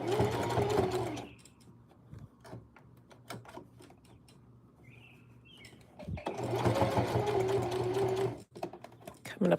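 Sewing machine stitching the hem of jeans, two fast rattling runs of stitching at the start and the end, with a quiet gap in the middle that holds clicks and handling noise.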